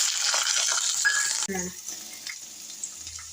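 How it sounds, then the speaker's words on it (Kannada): Peanuts and green chilies frying in hot oil for chitrapuli, a bright continuous sizzle with a few spoon scrapes, then a sharp metallic clink as the pan is stirred and the frying settles quieter. "ಚಿತ್ರಪುಳಿ ಇದನ್ನು ಕೆಂಪಗೆ ಫ್ರೈ ಮಾಡ್ಕೋಬೇಕು"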